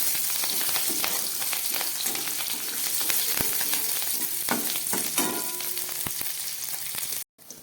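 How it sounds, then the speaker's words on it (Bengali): Capsicum frying hard in a pan while a paneer curry is cooked, a steady close sizzle with scattered pops and crackles throughout, cut off abruptly near the end. "ক্যাপসিকামটাকে একটু ভালো করে ভেজে নিচ্ছি।"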